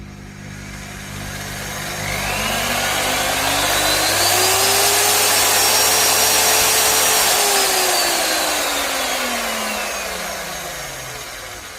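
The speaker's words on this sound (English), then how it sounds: "Only thing left to do is plug her in and see if the variable speed's working now." A repaired variable-speed power tool is switched on, its motor whine sweeping up in pitch as speed rises, holding high, then winding back down, loud and close, with no talk.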